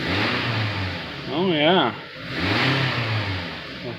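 A 2003 Toyota Camry engine with a rough-running fault revs up twice, rising and falling in pitch, close by, with brief speech between the revs.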